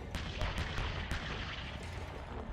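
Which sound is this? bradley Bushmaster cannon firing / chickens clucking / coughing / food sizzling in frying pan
bradley Bushmaster cannon firing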